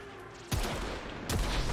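Two loud gunshots from the video game Octavia, one at about half a second and a second near the end, each a sharp broadband blast with a short decaying tail over quiet game ambience.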